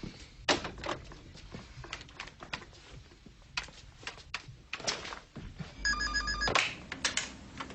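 A phone rings once with an electronic trill partway through, amid scattered knocks, taps and clatter in a quiet room.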